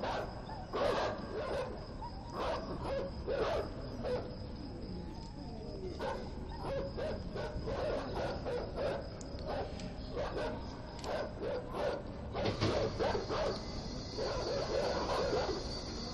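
Dogs in the video game INSIDE barking and yipping repeatedly in short bursts against a low ambient drone, moderately distant, with a higher whine entering near the end.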